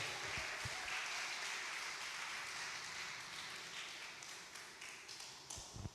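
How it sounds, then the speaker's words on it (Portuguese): A church congregation claps steadily, a dense wash of applause that fades slightly toward the end, with a few sharper claps near the close. "Pode aplaudir o Senhor, igreja."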